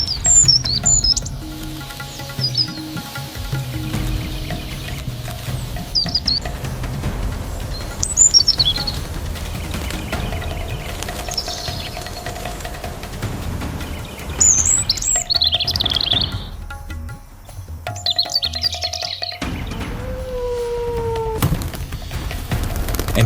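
Nutcrackers calling in the frozen Alps, a series of sharp, scattered chirps and tweets repeated every few seconds over a low rumble, with a longer whistled note near the end.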